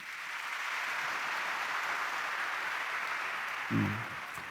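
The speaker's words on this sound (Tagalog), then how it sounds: "Pumalakpak nga kung naintindihan ninyo." A Quiapo Church congregation at Mass claps together, a sustained wash of many hands at moderate distance, steady throughout with a brief low bump near the end and no speech over it.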